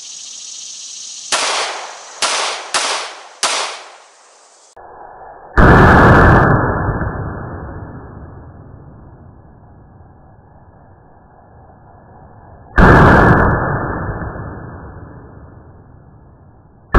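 Four quick, sharp 9mm pistol shots crack into a laptop outdoors. Two much louder, booming single shots follow several seconds apart, each trailing off in a long echo.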